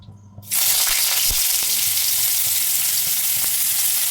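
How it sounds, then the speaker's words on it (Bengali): Chopped onion hits hot mustard oil with a sudden loud sizzle after a brief quiet start, then keeps up a steady, close, dense frying hiss with a few faint clinks. "তেলটা গরম হয়েছে, এর মধ্যে দেবো একটু পেঁয়াজ কুচি"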